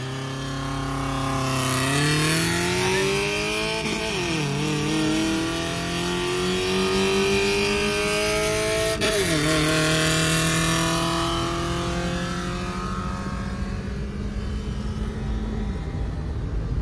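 Tuned Honda Civic RS, Honda Vezel RS, Daihatsu Charade and Toyota Vitz 1.5 race side by side, their loud engines rising through rapid upshifts, with rising and falling pitch as several cars pull hard for over fifteen seconds.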